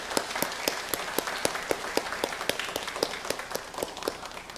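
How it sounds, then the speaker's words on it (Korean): A church congregation applauds to welcome new members, with scattered background clapping and a few sharp, evenly spaced claps standing out in a steady rhythm, moderately quiet and without talk. "우리 박수로 환영하도록 하겠습니다"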